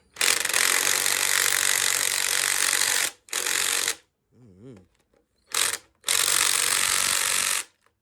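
A ratchet wrench loosens oil pan bolts on a junkyard 5.7 Hemi engine in long, rapid bursts of clicking, close and loud, with short pauses and a brief low sound in between.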